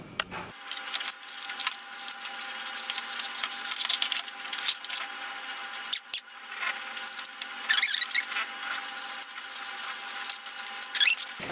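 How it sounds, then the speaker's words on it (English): Jacket pieces being cut out of fabric with scissors, with irregular snipping and crisp rustling of the cloth, occasional sharper clicks, and the snips close and fairly clear. "Let's go ahead and cut these pieces out now."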